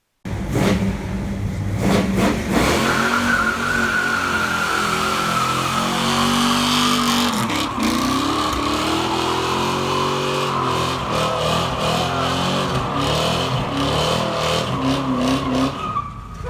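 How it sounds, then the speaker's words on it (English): A 1957 Chevy 3100 pickup truck does a burnout, its engine roaring loud and sustained while the tires squeal and the revs rise and dip throughout. "I'll put that burnout video up"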